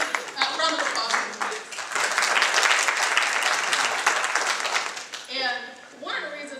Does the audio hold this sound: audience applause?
yes